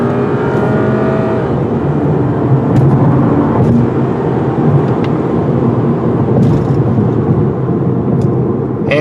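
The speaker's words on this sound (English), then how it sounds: "Once the turbo kicks in, this thing really flies. Yeah, now the turbo's kicking in." A 2016 VW Golf TSI SEL pulls hard under turbo boost, its engine note rising in a strong, continuous drone heard from inside the car, loud and steady with a few brief thumps.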